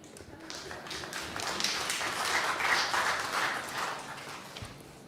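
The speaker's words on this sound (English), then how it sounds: "can we applaud her?" Members of Parliament applauding during a hearing session: sustained, moderately distant clapping that swells through the middle and tapers off, with no speech over it.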